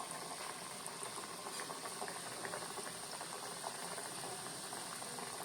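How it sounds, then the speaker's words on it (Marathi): Sweet whole-wheat vadas fry in hot oil in a Konkani home kitchen, giving off a continuous dense bubbling sizzle at an even level, close by and without talk. "आता तेल गरम झाले। आम्ही हे वडी घालून फ्राय करून घ्या।"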